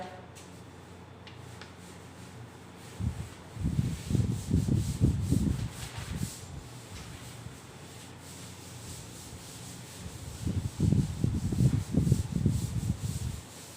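An eraser or duster rubs across a classroom board in two separate bursts of scrubbing strokes, soft and close, with quiet room noise between them.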